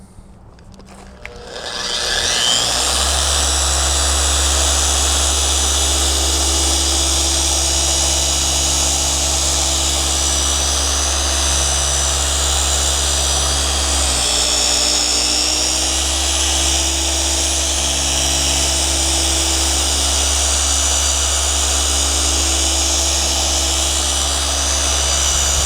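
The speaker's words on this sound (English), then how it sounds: "Now I'm going to turn it on to the highest speed setting on this DA polisher" A dual-action polisher at its highest speed setting works a faded headlight lens. After a brief start it holds a loud, steady, high-pitched whine with a low hum beneath, close up, with one short dip midway.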